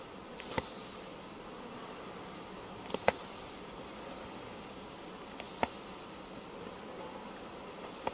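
Honeybees work in an open hive during a honey harvest, a steady diffuse buzzing drone held throughout, with a few faint sharp clicks over it.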